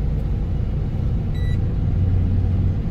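A 12-wheeler truck drives along a bypass road, its engine giving a steady, deep, continuous rumble close by with no break in the drone.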